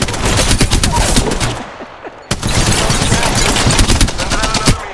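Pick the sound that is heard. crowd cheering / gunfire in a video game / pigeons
gunfire in a video game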